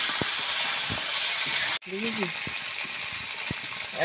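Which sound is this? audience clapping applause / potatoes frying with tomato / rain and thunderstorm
potatoes frying with tomato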